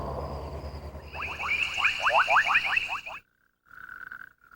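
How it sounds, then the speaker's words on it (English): Male coqui frog giving its two-part call, a rapid series of bright, rising chirping notes repeated about a dozen times, followed after a short pause by a further clear tonal note, close and distinct over a low background rumble. "The male coqui frog has a two-part call"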